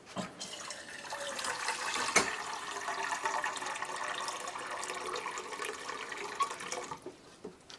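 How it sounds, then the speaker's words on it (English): Water is poured from a container into a pot of pine needles at a campsite, a steady splashing stream lasting about seven seconds at moderate closeness, tapering off at the end. "We'll just add some water."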